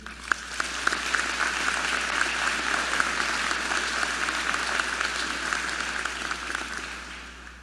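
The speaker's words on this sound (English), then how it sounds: "let's give our donors a round of applause" A university convocation audience applauds donors: steady, broad applause from a large hall crowd at moderate level, with a constant low hum beneath, gradually fading out at the end.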